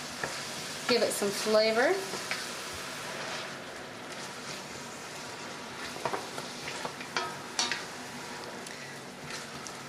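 Pad thai with tofu and chicken stir-fries in a pan just after fish sauce goes in, a close, steady sizzle with scraping stirring, while a voice speaks briefly over it.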